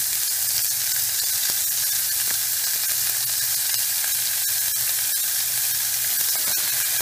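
Chopped onions with a pinch of salt softening in a pan for Tamil brinjal kara kuzhambu, a steady, even sizzle that carries on without a break at moderate loudness, with faint scrapes of stirring and no one talking.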